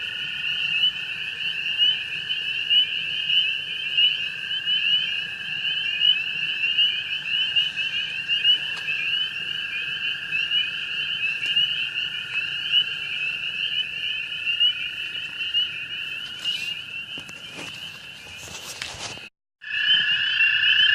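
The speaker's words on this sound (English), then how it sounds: "You hear there are hundreds of American toads out here" A dense, continuous chorus of hundreds of American toads trilling at night in early May, many overlapping high buzzing calls droning steadily, with a brief break near the end.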